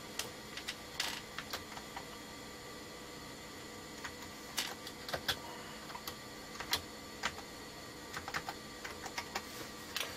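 Keys clatter on a computer keyboard in scattered bursts of clicks with short pauses, fairly faint and close, while a PC writes Mac floppy disks.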